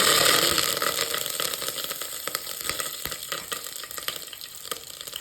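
Loud, crackling sizzle of star anise, cinnamon, cloves and curry leaves frying in hot oil, steady and close, with faint stirring clatter.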